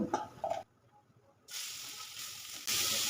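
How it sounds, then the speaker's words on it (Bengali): Grated carrots fry in ghee in a heated pan: after a few soft clatters and a brief lull, a loud, bright sizzling hiss surges in and grows stronger, close and continuous. "ঘিয়ের মধ্যে আমি গাজরটাকে প্রথমে একটু ভেজে নেব"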